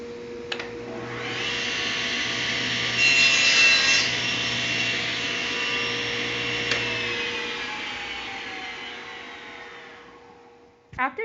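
A table saw cuts through a wooden workpiece in a woodshop, the blade raised about 2 inches above the board, giving one long, loud, steady cutting whine that fades as the cut finishes, followed by brief knocks at the end.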